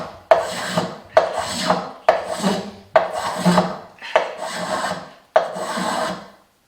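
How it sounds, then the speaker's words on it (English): Six rhythmic strokes of a hand plane across rough sawn wood, each a sharp rasping shave that starts with a bite and tails off, close up with short pauses between passes. "I was planing straight into sawn wood with a rough surface, and then I've got a nice smooth surface now"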